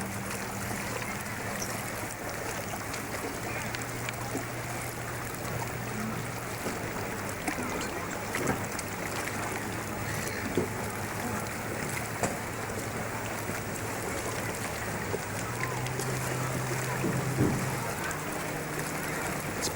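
Three Flying Fifteen sailing dinghies glide toward Mordialloc Creek in very light wind after a race, giving a constant, close wash of water against the hulls with a soft rushing hiss.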